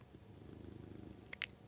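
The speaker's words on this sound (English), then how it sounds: "If you hear purring in the background, it is because my cat is in my lap" A cat purrs softly while resting on a lap indoors, a faint, steady rhythmic rumble, followed by a couple of brief sharp clicks at the end.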